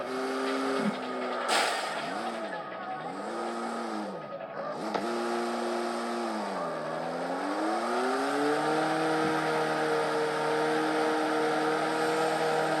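Game car in CarX Street driving through a night city, its engine note rising and falling through gear shifts and revs, then holding a steady high drone; loud and continuous, with no talking.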